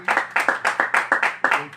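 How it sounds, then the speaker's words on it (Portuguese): A church congregation claps hands in a brisk, steady rhythm during a joyful worship service, with about seven sharp claps close together in under two seconds. "A igreja bate palmas bem alegre para Jesus."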